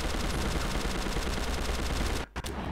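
Sustained rapid automatic gunfire in Prototype 2, a loud, dense stream of shots that cuts off abruptly near the end, followed by a couple of brief bursts.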